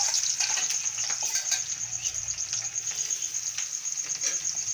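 Onions dropped into a hot pan for a chicken dish, a bright steady frying sizzle with a few soft scrapes and taps, close and moderately loud throughout.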